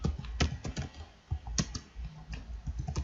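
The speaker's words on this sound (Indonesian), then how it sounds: "Kita ketikkan fungsi" Close, quick keystrokes on a computer keyboard as code is entered at a Node.js terminal prompt, irregular clicks in short bursts with brief pauses and no voice.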